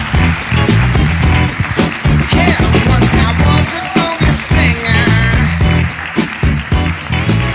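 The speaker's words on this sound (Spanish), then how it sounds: "reciba con un fuerte aplauso al estelar de la noche, el señor Ricardo Pérez" Comedy show audience in Guadalajara applauding loudly, dense continuous clapping mixed with cheers and whoops that swell and fade as a headline comedian is welcomed on stage.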